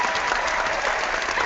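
Brief burst of audience clapping, an even, steady patter of many hands without any speech over it.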